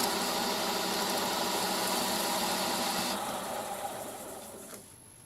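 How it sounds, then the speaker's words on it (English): A lathe spins at steady speed with 120 grit sandpaper taped to a stem, sanding the inside of a ring; a continuous whirring hum and gritty rasp that gradually winds down and fades toward the end. "taping a little bit of 120 grit to the stem so I can use the rotation of the lathe to act as a sander"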